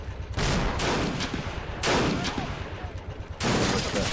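Artillery fire in the World War II strategy game Men of War Assault Squad 2, in a Pacific war battle: three heavy, booming barrages land at intervals, each a loud broadband blast followed by rumbling decay over dense background battle noise.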